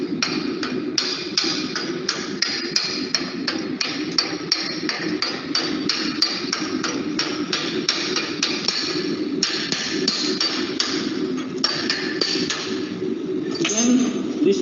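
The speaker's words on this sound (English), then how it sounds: "using this hammer you have to remove the slab" A small metal chipping hammer knocks slag off a weld, tapping and chipping rapidly and repeatedly, sharp clinking knocks in an uneven rhythm, close up.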